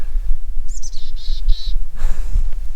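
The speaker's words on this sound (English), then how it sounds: "black-capped chickadee. You are the state bird of Maine." A black-capped chickadee calls from a tree in the Oregon high desert, a few clear high whistled and buzzy notes in quick succession, close and loud against soft outdoor background, no talking.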